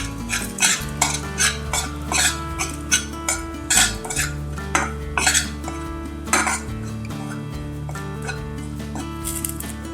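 A spoon stirs ground dried coconut roasting in ghee in a kadhai, with repeated metallic scrapes and clinks against the pan in an irregular rhythm, close and fairly loud over a quiet background hum.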